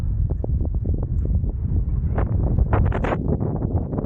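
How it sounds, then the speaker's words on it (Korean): Strong gale wind buffeting the microphone while cycling the coastal bike path near Seongsan Ilchulbong, Jeju, a loud, constant low roar with rough gusty bursts and no voices. "바람이 생각보다 너무 세네요"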